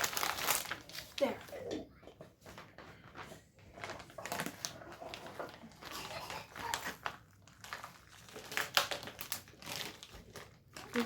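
Plastic bag crinkling and rustling in short, irregular bursts as a pantry food bag is handled and cut open in a home kitchen, with children's voices and talk scattered throughout.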